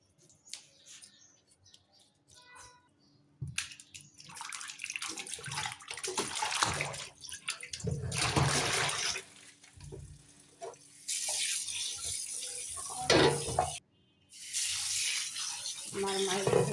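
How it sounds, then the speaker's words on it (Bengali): Hilsa fish pieces are washed in water, with splashing, sloshing and running-tap sounds coming in uneven bursts and pauses, close and fairly loud, broken by short quiet gaps. "আমার মাছ ধোয়াটা শেষ, পরিষ্কার করে ধুয়ে নিয়েছি।"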